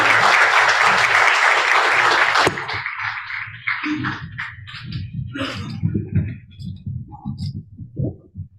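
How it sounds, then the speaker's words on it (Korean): Audience at the opening ceremony of the 22nd BIEN congress on basic income applauds to welcome a speaker, loud sustained clapping for about two seconds that cuts off abruptly, followed by someone talking. "애니 밀러 선생님을 큰 박수로 환영해 주시죠"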